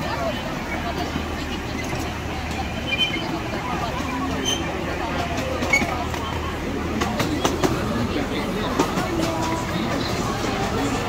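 A miniature train on the Diamond Valley Railway in Eltham, Victoria, Australia rolls along its tracks with a low rumble and scattered clicks and clacks, under the murmur of nearby chatter.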